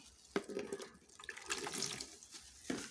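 Water runs from a tap into a container while 100 grams are measured out for homemade liquid soap, a steady close splashing flow with a couple of sharper splashes and no talk.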